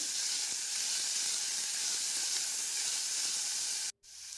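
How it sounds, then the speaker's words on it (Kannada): Onions frying in oil in a pan for chicken curry, a continuous close hissing sizzle that holds steady and then cuts off abruptly near the end, with no talking. "ಈರುಳ್ಳಿನ ಎಣ್ಣೆಯಲ್ಲೇ ಹುರ್ಕೋಬೇಕು ಸಾಫ್ಟ್ ಆಗೋ ತನಕ ಇದನ್ನು ಎಣ್ಣೆಯಲ್ಲೇ ಹುರಿಬೇಕು"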